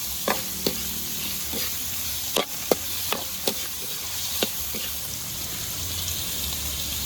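Beef sautéed with ginisa mix being stirred in a pan for ginisang sayote, giving a steady background sizzle broken by several sharp scrapes and clinks of the utensil against the pan.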